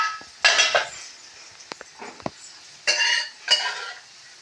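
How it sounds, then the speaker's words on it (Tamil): Cooked lentils being tipped into a cooking pan: several bursts of scraping and clattering against metal, separated by sharp clinks and short pauses, close and fairly loud with no talk. "இப்போ என்ன செய்ய போகிறேன்னா வேக வச்சுருக்க பருப்பை எடுத்து நல்லா கொட்ட போகிறேன்"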